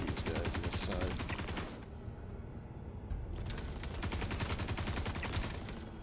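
Rapid automatic gunfire in the Star Citizen space game, dense bursts that cut out briefly in the middle and then resume loud and close, with a voice partly underneath.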